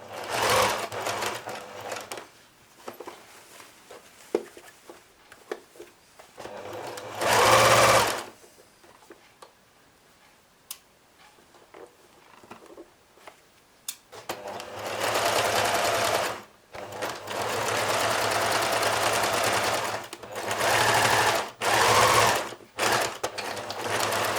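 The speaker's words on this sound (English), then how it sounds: "now I'm just going to stitch all the way around" A sewing machine stitching fabric around the edges of a piece, heard in several loud bursts of rapid whirring separated by quiet pauses and small handling sounds.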